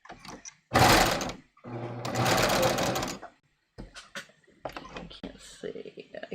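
A home sewing machine stitches a raglan sleeve top in two steady, whirring bursts, followed by lighter clicks and rattles of raising the needle and presser foot; no talking is heard.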